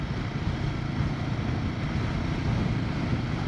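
Strong wind buffeting a rider on a Royal Enfield Himalayan 450 motorcycle near Gloucester airport, a loud steady low roar of wind noise with no talking.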